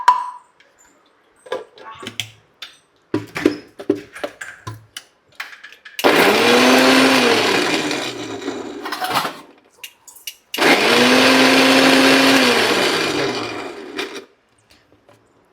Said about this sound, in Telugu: మిక్సీ పెట్టండి.